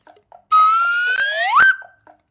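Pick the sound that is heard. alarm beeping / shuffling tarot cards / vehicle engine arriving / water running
alarm beeping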